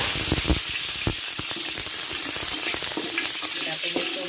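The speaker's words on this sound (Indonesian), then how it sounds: "Kita tumis-tumis sampai dia agak harum" Garlic and spring onion stir-fry in a hot pan with a steady, close sizzle, broken up by the sharp scrapes and taps of a spatula pushing the pieces around.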